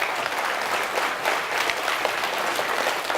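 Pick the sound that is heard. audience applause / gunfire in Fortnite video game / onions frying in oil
audience applause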